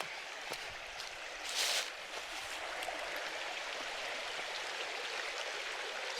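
A small creek near an Arkansas campsite flows in a steady, soft rush of water, with a brief louder splash partway through and no voices.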